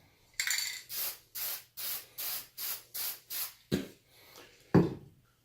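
A can of spray paint lets out a quick rhythmic series of about eight short, loud hissing bursts, followed by a couple of sharper clacks and one final spray, close up.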